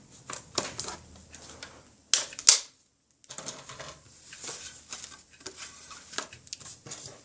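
Paper strip being cut for card making from scraps, a series of crisp close snips and rustles with a sharp louder cut in the middle and a brief pause.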